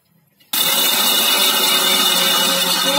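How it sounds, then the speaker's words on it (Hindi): An electric grinder jar starts abruptly after a brief quiet moment and runs loud and continuous, coarsely grinding roasted peanuts for peanut butter, with a harsh high whirring and rattling. "लीजिए इसको हम जार में डाल रहे हैं और फिर पीस देंगे थोड़ा सा।"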